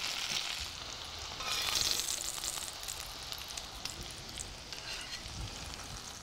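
Gnudi warm through in butter in a pan, giving a steady, close frying sizzle with a fine crackle that swells briefly before settling into an even hiss, with no talking.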